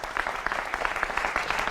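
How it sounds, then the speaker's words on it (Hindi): A television studio audience breaks into brief, lively applause, many hands clapping together in a dense burst that stays loud and close throughout. "जोरदार तालियों के साथ अभिनंदन है।"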